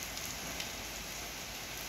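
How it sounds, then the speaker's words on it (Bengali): Morning rain falling among buildings, with trees shaking in the wind, heard as a faint, even, steady hiss of rain with no talking. "এখন দেখছি মনে হচ্ছে বৃষ্টি একটু হালকা কমেছে।"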